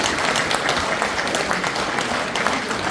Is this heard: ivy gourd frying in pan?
no